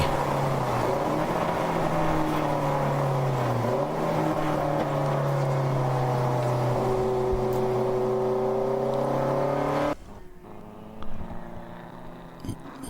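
A race car runs the ChampCar Endurance Series 14 Hours of Daytona, its engine droning loud and steady with rising and falling pitch as it crosses the start-finish line, then cutting off abruptly to quieter track ambience.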